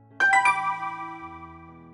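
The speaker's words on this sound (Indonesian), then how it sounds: "Bunyi sebuah notif pada ponselnya, Nagea langsung membukanya." Phone notification chime: three quick bright bell-like tones in rapid succession, then a ringing tail that fades away, clear and alone.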